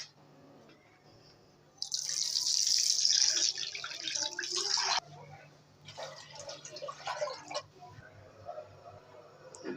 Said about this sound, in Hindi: ये देखें इसके अंदर हमने पानी डाल दिया है